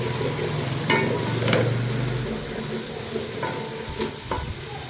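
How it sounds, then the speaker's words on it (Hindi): Onions sizzling in a pan as they fry toward light golden, a steady crackling hiss with a low hum in the first half and a few sharp stirring scrapes. "मैं सबसे पहले प्याज को फ्राई कर लेती हूँ लाइट गोल्डन से"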